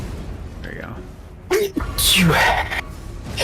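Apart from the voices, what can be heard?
sneeze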